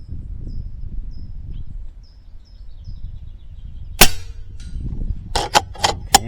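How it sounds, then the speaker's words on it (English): A .25 caliber Skout EVO air rifle fires a slug at a steel target 100 yards away, giving a sharp, loud crack followed shortly by several fainter metallic pings, with quiet outdoor ambience and faint birdsong before it. "Let's go ahead and shoot at the steel target first"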